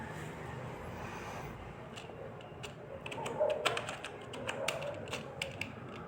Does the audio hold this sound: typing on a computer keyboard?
yes